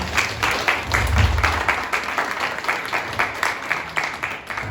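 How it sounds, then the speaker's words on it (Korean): An audience at a company New Year kickoff and all-hands meeting applauds to welcome the CEO to the stage, with steady dense clapping filling the room for several seconds and a low rumble underneath. "여러분, 대표님 뜨거운 박수로 맞이해 주시기 바랍니다."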